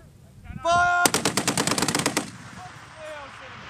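A machine gun fires a rapid burst of about a dozen loud, evenly spaced shots during live-fire military training with US Marines and Australian soldiers, with a brief voice and tonal signal just before.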